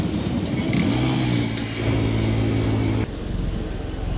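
A motorbike engine runs loud and close with a steady, gritty roar that rises briefly before dropping to a slightly lower drone.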